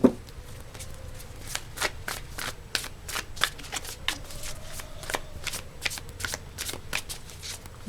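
Tarot cards are shuffled close up in quick rapid riffles, a rhythmic run of crisp slapping flutters repeated steadily with a faint hum beneath.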